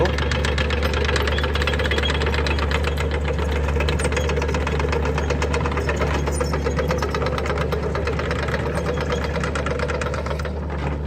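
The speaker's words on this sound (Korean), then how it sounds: "엔진 소리 좋고요" The diesel engine of a Volvo EC55B mini excavator, over ten years old, idles steadily nearby with a rapid, rhythmic knocking clatter that stays constant throughout.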